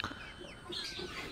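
Young chicks waiting for food cheep and cluck in a close, overlapping cluster, a short burst of busy high chirping.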